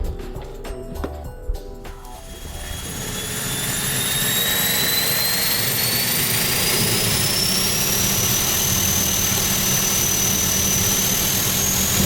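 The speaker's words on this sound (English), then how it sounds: "The engine started, so far so good." A Piper Cheyenne's engine starts up: a few clicks and rattles give way to a rising turbine whine that climbs in pitch and settles into a loud, steady roar, with no voices.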